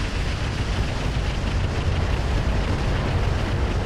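A rocket barrage explodes in the mech game Roguetech, heard as a dense, continuous roar of rumbling blasts that stays loud and broadband without a break.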